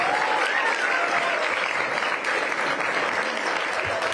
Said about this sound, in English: Let's give Max a big round of applause.